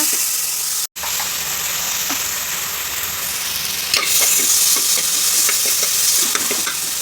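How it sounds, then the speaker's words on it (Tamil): Ginger garlic paste fries in hot oil for a mutton curry, crackling in a constant sizzle while a spoon scrapes and stirs at irregular moments, close to the pan. "இஞ்சி பூண்டு பேஸ்ட் போட்டுக்கலாம் நல்லா பச்சை வாசம் போக வதக்கிடுங்க"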